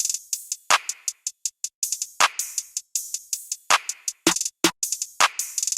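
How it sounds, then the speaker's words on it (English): Accent snare hits punctuate a sparse programmed beat built from a couple of Splice samples, landing as sharp, bright cracks every second or so over a steady ticking hi-hat pattern, loud and close with no voices. "And then we got some accent snares in here as well."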